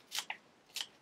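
Scissors snip through parsley being chopped for Turkish köfte: two crisp, quiet cuts about half a second apart, with a faint click between them.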